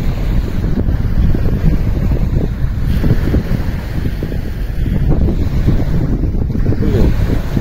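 Strong wind roars across a lagoon while stormy waves churn and splash, buffeting the microphone with a steady, loud rush and no talk.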